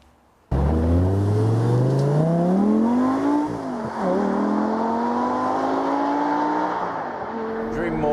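A first-generation manual Audi R8 with its V10 engine fires up loud and close, then revs hard in a rising, screaming howl that dips and climbs again over several seconds.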